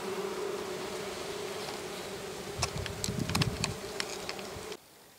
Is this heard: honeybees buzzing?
yes